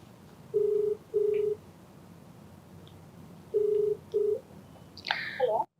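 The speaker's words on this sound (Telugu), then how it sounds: "సో నెంబర్ ఇచ్చారు, నేను కాల్ చేసేస్తాను." A telephone number is keyed in with four distinct steady dial tones in two pairs, followed by a brief higher warbling tone at the end, all close and clear over faint room hiss.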